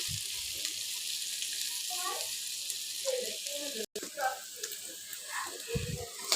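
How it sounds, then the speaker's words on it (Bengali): Egg and dried fish frying in a pan while being stirred, giving a steady close sizzle throughout with scraping stir strokes; people talk over it. "আমি একটু ভালোভাবে নেড়ে চেড়ে ভেজে নিচ্ছি"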